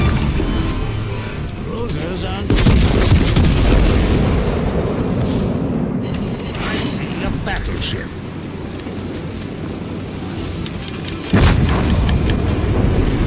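Volleys of secondary guns from a warship in World of Warships Legends, many batteries firing together as dense, continuous rumbling booms with sharper blasts near the start and end, under a speaking voice.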